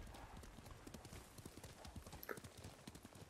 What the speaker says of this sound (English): Time for a nice horse ride to the north.